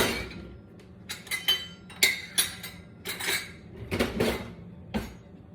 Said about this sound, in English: I'm just making sure those sugars mix in there real well